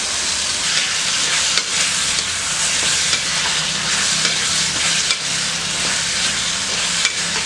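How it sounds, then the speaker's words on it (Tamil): Mixed vegetables and cut raw mango sautéing in a pan for sambar, a loud, dense sizzle with repeated scraping stirs of a spoon at an irregular rhythm, close up and without talk. "இந்த காயெல்லாம் நல்லா வதக்கியாச்சு"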